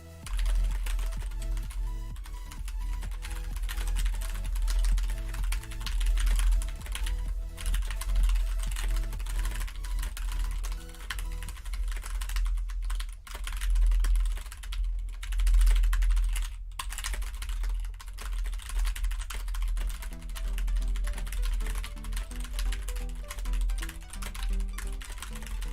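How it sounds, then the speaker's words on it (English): A computer keyboard is typed on rapidly and steadily during a Nitro Type typing race, dense close clatter of keystrokes over a low hum, with short pauses. "I play Nitro Type kind of to improve my typing"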